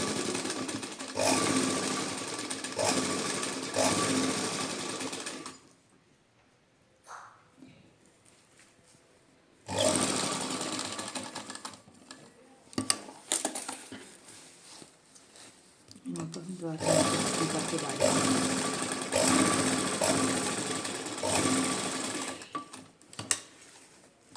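An electric sewing machine stitches a pocket onto trousers, running in long steady whirring bursts with pauses between runs, close and loud, while someone talks quietly over it in the gaps.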